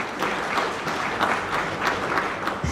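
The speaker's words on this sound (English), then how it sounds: "Let's give him a round of applause" Conference audience applauding steadily throughout, a dense wash of clapping from a room of attendees at an African curriculum association meeting, with no break or talk over it.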